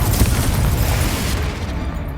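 A Confringo fire spell blasts in the Hogwarts Legacy video game, a loud, dense, rumbling boom that fills the whole clip and then thins out with a fading low roar.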